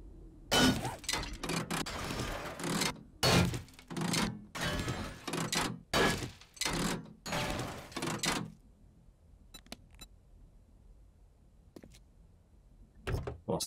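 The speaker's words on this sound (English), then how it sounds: "Scrap more of these engines." Car engines being scrapped in the video game 7 Days to Die, heard as a rapid series of loud metallic crunching and breaking hits in bursts, then a few sparse clicks after a quiet gap.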